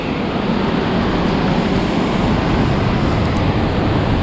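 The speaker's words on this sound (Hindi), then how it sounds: "आपको पानी की आवाज़ आ रही होगी" Steady, loud rushing water fills the scene without a break, a broad continuous roar of a fast, clear mountain river running close by at Govind Ghat.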